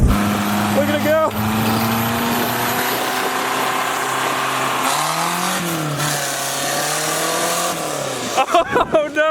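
An off-road vehicle running on tires made of plastic wrap gives a loud, continuous motor whine whose pitch rises and dips as it drives. Voices are heard briefly near the end.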